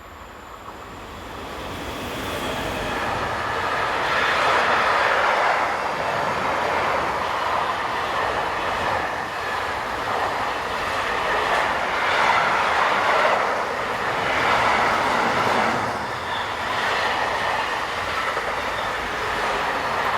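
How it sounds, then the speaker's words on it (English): Electric locomotive 186902 hauls freight train 43766 from Piacenza to Zeebrugge north up a grade, a loud sustained roar of traction motors and rolling wagons with swelling, rhythmic wheel noise. "Heading north up the grade is 186902 on train 43766 from Piacenza to Zeebrugge."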